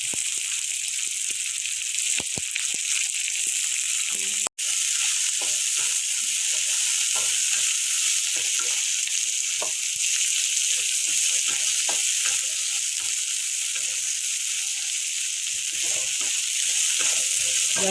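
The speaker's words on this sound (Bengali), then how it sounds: "পেঁয়াজ আর ইচা শুটকিগুলি আমি ভেজে নেব।" Onions and dried shrimp fry in hot oil, a loud continuous sizzle that stays even throughout, broken by frequent small clicks and scrapes of a utensil in the pan.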